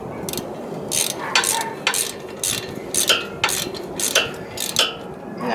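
A hand ratchet clicks in short bursts while snugging bolts on the front bearing of a 1998 Ford Ranger 4x4, close and moderately loud over a hissy workshop background.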